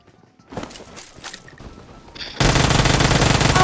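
Rapid automatic gunfire in the mobile battle royale game PUBG Mobile, starting loud and dense after a few scattered shots, then holding steady as a continuous burst to the end.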